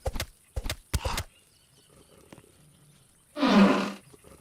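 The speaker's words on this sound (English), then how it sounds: "there's a wolf in here, and I only have this old axe to defeat him." A wolf in the Roblox game 99 Nights in the Forest lets out a single loud, harsh growling roar near the end, after a few short rhythmic thuds like footsteps or hits.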